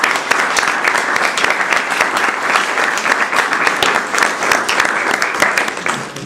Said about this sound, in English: So if you'll join me in a little bit of applause for these doctors again as well.